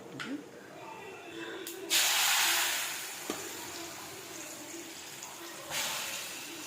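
Mustard seeds drop into a mix of hot sesame and refined oil for a sweet mango pickle, setting off a sudden sharp sizzle that hisses for a moment, eases, then flares briefly again.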